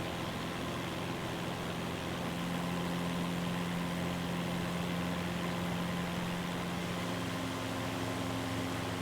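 Steady drone of an aircraft engine at high RPM in Microsoft Flight Simulator 2024, a continuous low hum with a sustained tone that rises in pitch partway through, alone and fairly quiet.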